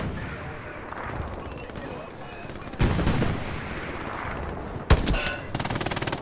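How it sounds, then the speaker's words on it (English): Gunfire in the Hell Let Loose shooter game, with a dense rumble of distant battle shots, then a sharp close report near the end followed by rapid bursts. "I don't know if I'm getting shot at"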